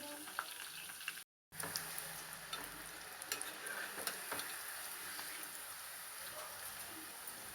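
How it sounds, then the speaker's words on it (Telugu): Curry leaves frying in hot oil, made for chicken pakodi, produce a continuous crackling sizzle with scattered pops, fairly faint but steady throughout, broken once by a brief dropout. "కరివేపాకు వేసాము కొంచెం ఫ్రై అవుతుంది"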